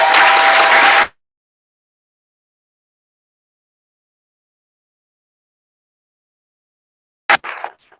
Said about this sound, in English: Can we give it up for our panelists again?